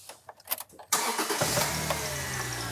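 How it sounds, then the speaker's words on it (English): A Subaru car engine cranks and fires up nearby, a few rattling clicks first, then a sudden catch that settles into a steady idle. "fire the car up and let it cool down"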